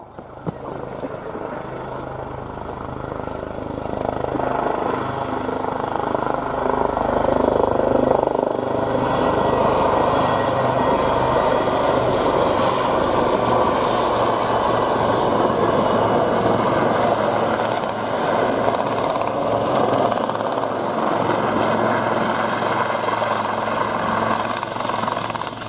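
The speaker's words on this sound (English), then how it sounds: "two 847 Naval Air Squadron Wildcat AH-1s are coming in, and they're going to be performing a vehicle stop." Two Wildcat AH-1 helicopters of 847 Naval Air Squadron arrive at a naval air day display, a loud, steady rotor and turbine roar building over the first seconds and holding, with a commentator audible.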